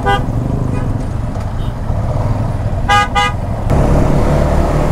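Roadside traffic jam with a car horn tooting in short bursts over the rumble of idling engines, nearby and loud, followed by a rising swell of engine noise.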